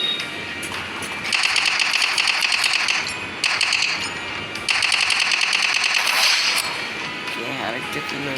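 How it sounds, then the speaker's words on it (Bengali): Automatic gunfire from a Roblox-style online shooter video game rattles in long rapid bursts, loud and close, with short breaks between volleys and a voice speaking over the action. "এখানে দুজন ফায়ার করছে, আমরা এখানে ফায়ার করতে দেবো।"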